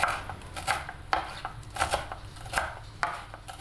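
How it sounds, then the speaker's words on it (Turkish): A knife chops dill and parsley finely on a board, giving a steady series of close, sharp chopping thuds about every half second, with no talk. "dereotumuzu ve maydanozumuzu minik minik doğruyoruz"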